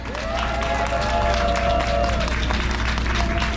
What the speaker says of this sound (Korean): 여러분 동의하시 박수 한번 주세요